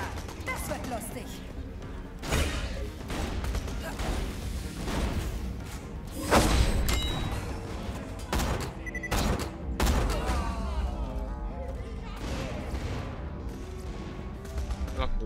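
Dense gunfire and impacts from a Borderlands: The Pre-Sequel co-op firefight crackle in repeated bursts with heavy thuds, while players talk over the shooting.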